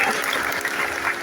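An audience clapping together at a gathering, a dense, steady wash of applause throughout the brief moment, fairly close and even.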